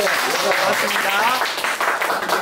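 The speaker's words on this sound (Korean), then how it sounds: "박수 한번 칠까요?" A small crowd claps steadily for a couple of seconds, a dense patter of hands up close with a few voices mixed in.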